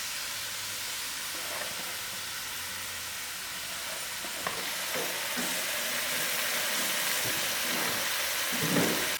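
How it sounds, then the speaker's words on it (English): Mutton curry for a one-pot lamb biryani stirred and fried in a pot with little oil, a steady close sizzle and hiss with scraping stirs that grow slightly louder toward the end. "I'm going to give this curry a good stir so it can fry out the fat that we have in the meat"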